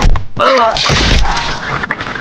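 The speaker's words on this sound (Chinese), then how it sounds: "最后一招绝杀拳轰出" Punches land in a martial arts film fight, heavy dull thuds and whacks striking in quick succession over a booming, loud score, with a voice talking over them.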